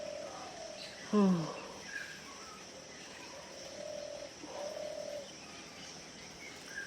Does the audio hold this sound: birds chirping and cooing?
yes